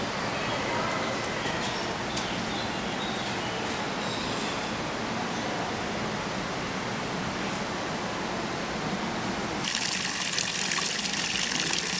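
Fresh mountain water rushes steadily near a monastery, a loud continuous broadband gush that stays constant throughout, turning slightly brighter and hissier toward the end.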